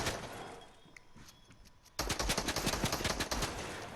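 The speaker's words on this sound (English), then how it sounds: "There's a difference in the sound of the AR whenever the ammo is low." Rapid automatic assault rifle fire in the video game Fortnite, a dense burst of loud close shots starting abruptly halfway through after quieter scattered game sounds.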